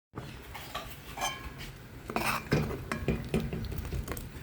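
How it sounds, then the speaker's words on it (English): Stew in a pot is stirred with a metal spoon, close by, giving continuous scraping and clinking that grows busier and louder toward the end. "And now I'll stew. This has to be stirred,"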